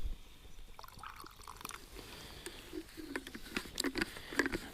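A small amount of water is poured onto coffee grounds at a canyon campsite, giving close, quiet patters and drips in an uneven trickle.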